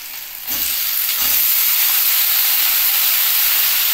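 Green beans, carrots and ginger drop into hot oil in a pan. The first soft thumps of vegetables landing give way to a loud, steady, close sizzle that swells and then holds.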